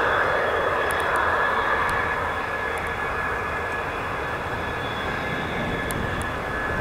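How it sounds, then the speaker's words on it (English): Airplane engines drone steadily near Eelde airport, a constant broadband roar that stays loud and even throughout with no talking. "There are planes there."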